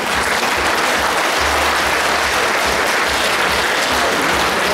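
Audience applause at a gala concert of a festival-competition, a steady roaring wash of clapping from a large crowd that holds loud and even throughout, with no pause.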